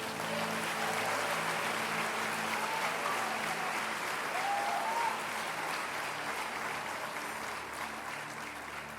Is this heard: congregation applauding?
yes